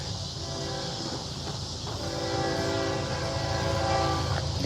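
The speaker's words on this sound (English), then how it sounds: "Here goes a train." A train passes near a garden, with a sustained rumble of rail cars under a long, multi-tone horn that sounds twice, swelling louder toward the end.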